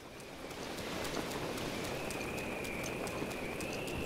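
Steady rain in The Legend of Zelda: Breath of the Wild, a continuous even hiss of falling drops on surfaces with faint scattered ticks, holding at a constant moderate level throughout.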